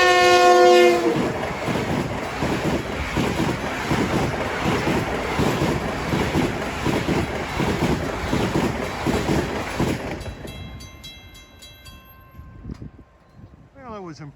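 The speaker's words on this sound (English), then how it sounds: "6:12 is the train 2070, the poor man's Ronkonkoma Rocket from New York to Ronkonkoma" Diesel commuter train 2070 to Ronkonkoma sounds its horn on approach at New Hyde Park during evening rush hour, then roars past loudly with rumbling wheels and fades, followed by a softer horn in the distance.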